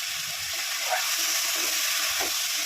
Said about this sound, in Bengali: এবার আমি সজনে ডাঁটাগুলো দিয়ে দেবো, দিয়ে কষাবো